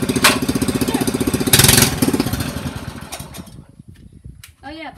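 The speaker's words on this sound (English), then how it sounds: "Now we're going to cold start the Polaris Sportsman 850 high lifter all-wheel drive on-demand four-wheeler." Polaris Sportsman 850 High Lifter all-wheel-drive four-wheeler cold starting after a month unused, its engine chugging in a fast loud rhythmic pulse, briefly revving, then faltering and dying down, with a voice talking over the end.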